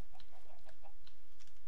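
A chicken in the block-building game Minecraft clucks in short, repeated bursts, several quick clucks spaced across the moment, fairly soft against a steady low background hum.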